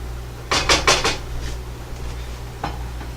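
Spoon clanking against a pot while marinara sauce is mixed, a quick burst of four metallic knocks followed by a single clink a moment later, fairly close with no talk.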